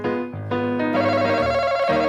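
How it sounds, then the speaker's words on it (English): A phone ringtone used as a contestant's buzzer in a game plays a loud, close electronic melody of stepped tones that shift every half second or so, heard alone with no talking. "That's a phone. That was our contestant buzzing in."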